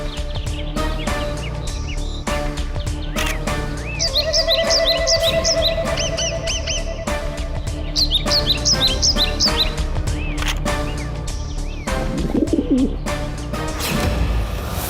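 Imitated bird calls play back from a tape recorder in a courtroom, with repeated chirping, tweeting and cooing phrases over a steady background hum, and a rustle or knock near the end.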